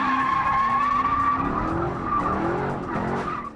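A Corvette's tires skid and squeal continuously while drifting through a figure eight, a loud sustained screech with a wavering pitch and engine noise underneath, fading slightly at the end.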